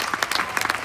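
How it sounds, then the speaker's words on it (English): Audience applause breaks out at a business presentation, a brief burst of many hands clapping at moderate loudness. "That deserves some applause."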